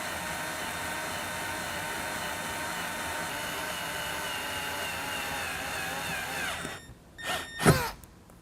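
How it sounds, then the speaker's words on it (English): Power drill boring holes in the metal bracket of a Go Rhino SRM500 roof rack on a 2022 Jeep Wrangler, a steady loud whine held for nearly seven seconds before stopping, followed by two short bursts. "We're going to drill from the top down"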